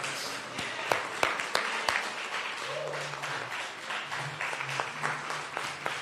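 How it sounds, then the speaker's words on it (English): Audience applauding as Reverend Jackson enters a hall, scattered but steady clapping with several sharp, close individual claps standing out, alongside background murmurs and sustained hum. "let's give Reverend Jackson a round of applause as he comes in"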